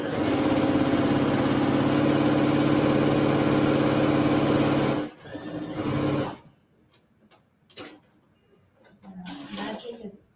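A sewing machine runs a steady, loud whirring stitch along a quarter-inch seam on a quilt for about five seconds, then stops, leaving quieter handling sounds and a person talking.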